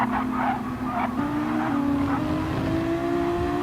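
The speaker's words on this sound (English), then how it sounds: "This car is making all kinds of weird noises." Race cars in a GTC World Cup racing video game whine with steady engine tones that climb through gears, with tire squeal, continuous and fairly loud throughout.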